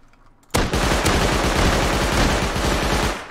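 Rapid Python revolver shots in the video game Rust, a dense loud barrage of gunfire from close range with sharp repeated cracks that starts abruptly and carries on steadily to the end, with no talking.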